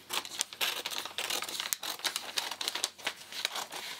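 Paper sewing pattern piece being cut out with scissors, repeated crisp snips and crinkles of paper in an irregular rhythm, close and fairly quiet.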